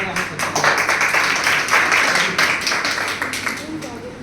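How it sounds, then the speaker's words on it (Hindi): Audience clapping fills a Teachers' Day school function, a steady wash of applause at moderate loudness with faint voices mixed in. "जोरदार तालियां बजाएं।"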